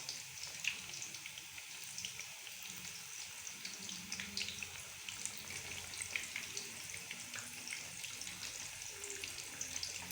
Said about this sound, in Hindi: अब हम 5 मिनट दूसरी साइड से भी फ्राई करेंगे